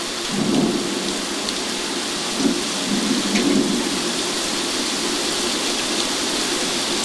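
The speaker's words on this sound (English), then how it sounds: "Most spectacular thunderstorm, thunder and lightning." Heavy rain pours steadily onto surfaces in a thunderstorm while low rumbles of thunder roll through the constant hiss, loud and close with no voices.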